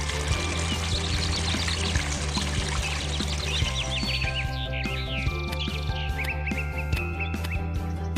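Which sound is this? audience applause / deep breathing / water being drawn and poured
water being drawn and poured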